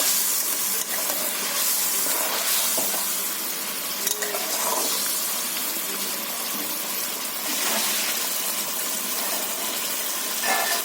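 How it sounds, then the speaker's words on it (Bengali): Fried pieces added to a simmering curry bring a steady, moderate sizzle and bubbling hiss that carries on throughout with slight swells. "তো এখন কষ্টাগুলো ভাজা কষ্টাগুলো দিয়ে দিচ্ছি।"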